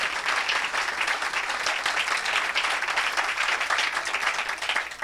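A church congregation bursts into loud, sustained applause at a Saturday worship service, dense clapping filling the room evenly from start to finish.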